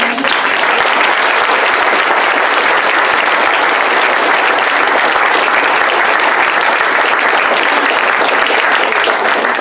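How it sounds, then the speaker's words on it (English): A sustained round of loud applause from an audience at a roast, many hands clapping in a dense, even wash that holds steady for nearly ten seconds. "if I can hear a round of applause for those who think that she's an earth angel for them"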